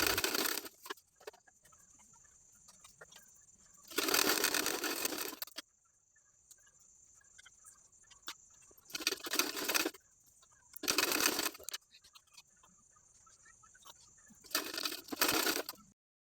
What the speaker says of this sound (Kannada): ಈಗ ಇನ್ನೊಂದು ಸೈಡ್ಗೆ ಟಕ್ಸ್ಗಳನ್ನೆಲ್ಲ ಸ್ಟಿಚ್ ಮಾಡ್ಕೊಳ್ಳೋಣ